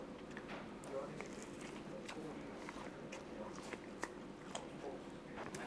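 Someone bites into a crunchy apple cinnamon pastry in Montreal, producing faint, scattered crisp crunches and chewing close up, with soft talk and background chatter around.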